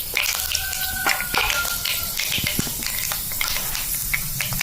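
Fenugreek seeds go into hot oil where mustard seeds have already popped, for a traditional lemon pickle, giving a close, bright sizzle with sharp scattered crackles and pops.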